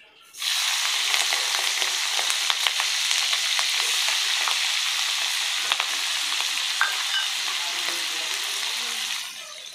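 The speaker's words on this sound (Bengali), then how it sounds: "মাছ ভাজা হয়ে যাচ্ছে, তুলে নিচ্ছি।" Fish frying in hot oil in a pan during Bengali home cooking for a festival meal, heard as a steady, loud, crackling sizzle with small pops that runs unbroken for several seconds with no talk.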